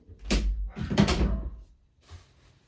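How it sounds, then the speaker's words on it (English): An indoor door being closed, a couple of close wooden knocks and a thud followed by a fainter bump, with no voices over them. "I'll close that door."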